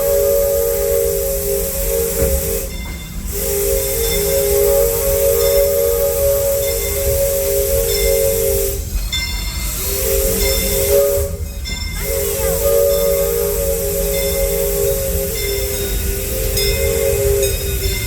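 The Disneyland Railroad steam train rolls along with a constant loud hiss of steam and rumbling, while a tonal whistle-like drone comes and goes in several breaks.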